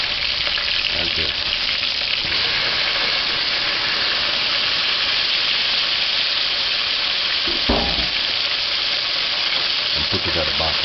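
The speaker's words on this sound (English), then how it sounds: "Saute. And just allow that to fry." Chicken noodle ingredients sauté and fry in a pan with a loud, steady hissing sizzle, broken by a few short utensil scrapes and stirring knocks close by.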